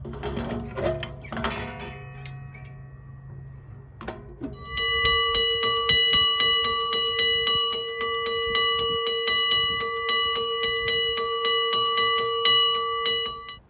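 A Western Cullen railroad crossing bell, mounted for an indoor demonstration, starts up after a few thumps and rings continuously with a fast, steady metallic clang, loud and close.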